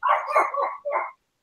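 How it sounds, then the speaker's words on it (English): A pet dog indoors gives a quick string of close, loud barks, about three or four rough yelps in a row, then falls silent. "It sounds like your dog is too."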